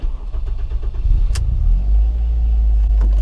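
A Ford Fiesta ST150 engine cranks briefly, then catches and settles into a loud, steady low rumble close to the listener.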